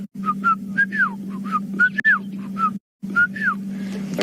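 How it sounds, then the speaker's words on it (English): A Shelley's francolin calls in the bush at sunrise during a safari drive, giving a rhythmic series of clear rising-falling whistled phrases over a steady low engine drone, with a brief pause before the calling resumes. "That's a Shelley's Franklin, one of my favorite calls in the bush."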